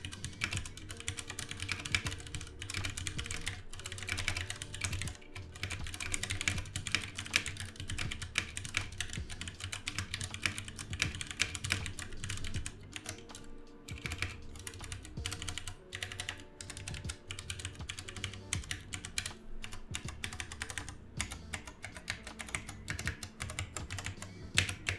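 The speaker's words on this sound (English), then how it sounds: "I'll drop a sound test now of the Cherry MX browns." Continuous mechanical keyboard typing on a Ducky One 2 Mini with Cherry MX Brown switches, dense rapid clacks of keys at close range, steady and busy throughout with no voices.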